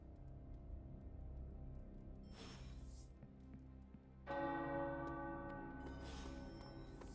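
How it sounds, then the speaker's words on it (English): Tower church bells ring in Marvel's Midnight Suns, a full, sustained resonant tone that swells in and rises again partway through, layered over a steady low game ambience with no talk. "The tower bells are ringing."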